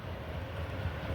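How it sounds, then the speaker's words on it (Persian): Long freight train rolling past, a steady low rumble and rail noise sustained throughout with no speech. "دوستاینم قطار باربری چقدر درازه."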